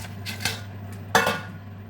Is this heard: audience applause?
no